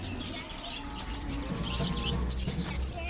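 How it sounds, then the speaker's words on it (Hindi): Small parrots chirp and twitter busily throughout, high-pitched calls layered over a steady background murmur, with a few brighter chirps standing out near the end. "ये देख, छोटे छोटे पैरट, तोते,"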